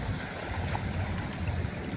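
Sea water at Manila Bay on a windy day near low tide: a steady, moderate wash of waves and wind noise with no distinct individual splashes.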